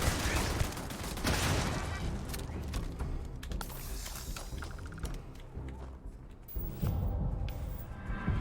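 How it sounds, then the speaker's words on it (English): A turret in Starfield fires rapid bursts of gunfire alongside clanking mechanical sounds, loud and sustained for several seconds before a short lull and another burst. "Oh, that's a turret."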